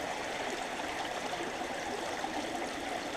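Water rushes through a gold prospecting sluice in Todmorden, UK, a steady broadband hiss and gurgle, close and constant with no voices.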